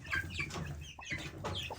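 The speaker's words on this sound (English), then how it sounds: "we have our chicken and our turkey up here laying on eggs" Chickens cluck in a coop where a hen and a turkey sit on eggs, several soft, close clucks and murmurs in an uneven rhythm, fairly quiet.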